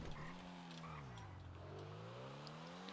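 A Comet SR sports car modeled on the Porsche 997 GT2 RS, driven in the GTA video game: a steady engine drone whose pitch sags and then climbs again, with faint tire noise underneath, heard alone.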